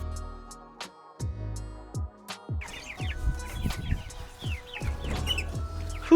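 Meat chickens on a small homestead of under one acre cluck repeatedly at morning feeding time, with close, irregular bursts of clucks and chirps overlapping one another.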